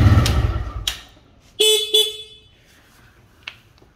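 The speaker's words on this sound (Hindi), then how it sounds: "ये रहा इसका हॉर्न" Short, thin horn beeps from a TVS Raider 125 motorcycle sound a few times in quick succession, a brief double toot followed by a fainter one, weak and tinny, with a bit of engine noise.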